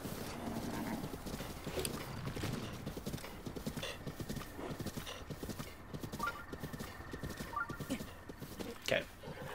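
Horse hooves clip-clop steadily in the video game The Legend of Zelda: Breath of the Wild, a rhythmic trotting beat with an occasional whinny, mixed with game sounds and someone talking over it.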